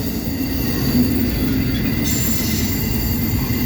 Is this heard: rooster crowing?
no